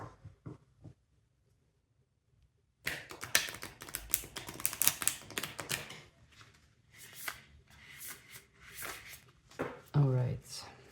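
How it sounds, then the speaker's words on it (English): Tarot cards are shuffled in dense, crisp riffling bursts after a quiet start, with a brief voice near the end. "Just going to shuffle like this in order to refresh the energy of the cards."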